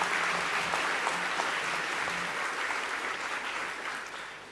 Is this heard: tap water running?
no